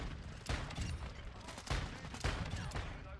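Kastov 762 rifle gunfire in Call of Duty MW2: dense, loud bursts of rapid shots in an ongoing firefight, with sharp peaks near the start, middle and end.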